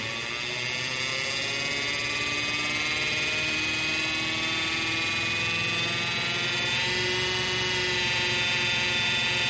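Engine of a 1970 Pontiac Ram Air III held at a raised idle around 2800 RPM, a continuous loud droning hum with steady harmonic tones that rise slightly, unbroken and alone for nearly ten seconds.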